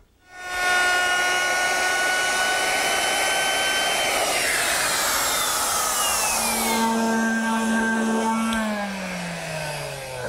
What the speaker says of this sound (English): To round over the edges of the handle, once again I'm turning to my router, which I've equipped with a 1/2 inch radius round over bit